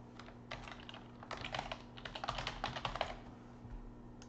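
Rapid keystrokes clatter on a computer keyboard while an email address is typed, building from sparse taps to a dense flurry and then tapering off, close and clear with no talk.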